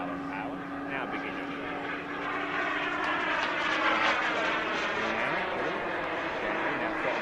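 An RC model Aermacchi MB-339 with a turbine jet engine roars in flight with a steady, rising whine. Someone talks over the engine noise.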